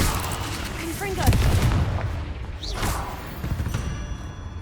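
Confringo spell blasts in Hogwarts Legacy, a couple of sharp explosive bursts with crackling tails and whooshing magical sweeps, mixed among other combat effects.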